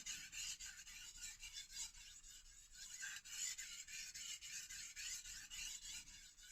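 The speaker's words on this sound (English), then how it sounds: "this is the angle that you need to sharpen the knife on" A knife blade rasps back and forth across a Naniwa Chosera whetstone in quick, even strokes, a close, dry grinding scrape repeated throughout.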